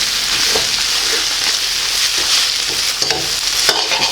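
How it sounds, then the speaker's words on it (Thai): Egg and chai po (preserved radish) are stir-fried in a pan with a constant bright sizzle, and a spatula scrapes and tosses in soft, irregular strokes up close. "เอาไข่ กับเชโป ไปผสมกันแบบนี้ แล้วก็คลุกกันนะครับ"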